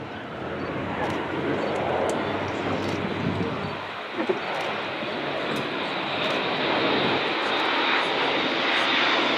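An Airbus A400M turboprop with four Europrop TP400 engines flies at the Farnborough Air Show, producing a loud, continuous broadband engine roar that holds steady and swells slightly toward the end.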